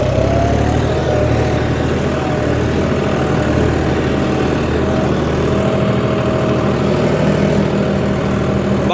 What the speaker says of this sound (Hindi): देखो स्पीड पकड़ रहा है, कवर कर रहा है अपनी, मतलब ट्रैक्टर में बहुत ज़्यादा दम है जी।